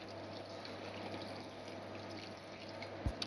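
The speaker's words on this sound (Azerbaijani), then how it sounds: "Biraz kaynar su tökürük." Boiling water is poured into a pot for cooking, making a faint, steady watery rush with a low hum beneath it and a small knock near the end, heard alone at low volume.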